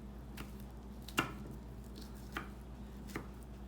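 Knife slicing through deer hind quarter meat along the muscle seams, heard as a few soft, scattered cuts and light squishy contacts over a steady low hum.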